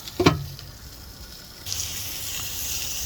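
Meat cooking on a Coleman Fold N Go portable grill: a short clatter, then a quiet pause, then a steady bright sizzle of grease that carries on to the end.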